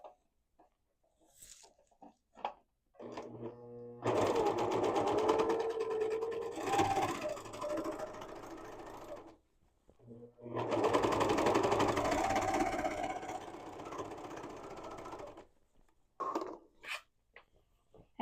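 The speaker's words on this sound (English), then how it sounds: "I'm going to serge that edge" A serger trims and finishes the raw edge of a princess peasant dress in two loud, buzzing runs of rapid stitching, each about five seconds long, with quiet handling clicks before, between and after.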